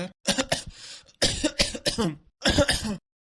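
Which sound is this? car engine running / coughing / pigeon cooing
coughing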